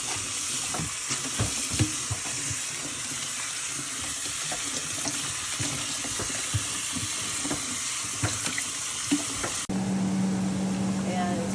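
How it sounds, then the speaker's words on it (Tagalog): Coconut milk, shrimp, onion and garlic sauté in a pan, a constant sizzle with stirring clinks and scrapes, voices speaking at times, shifting to a steadier hiss near the end. "Nilagay niya na ang kanyang gata, hipon, na may sibuyas at bawang na"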